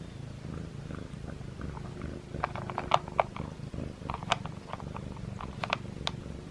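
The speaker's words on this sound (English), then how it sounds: "He purrs louder than Simba" A feral kitten purring steadily up close, a soft continuous rumble with small clicks and rustles scattered over it.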